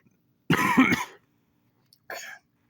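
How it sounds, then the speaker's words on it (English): Two close coughs: a loud, harsh one, then a shorter, quieter one after a brief pause. "Sorry if I coughed."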